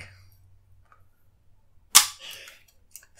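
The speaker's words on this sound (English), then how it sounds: "when you hit the shutter, it makes a nice clack" A Polaroid pack film camera's shutter fires once with a single sharp, close clack, set against near silence with a faint hum before it.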